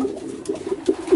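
Racing pigeons coo in a breeding loft in Bucharest, Romania, giving soft, low, repeated calls that are close and fairly steady, with no talk over them.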